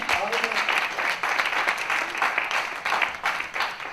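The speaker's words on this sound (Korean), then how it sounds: "우리 PPT를 준비하신 간사님들에게 좀 박수 한번 보내주시겠습니까?" A church mission conference audience claps for the staff who prepared the slides, with a full, continuous round of applause that stays loud and even throughout.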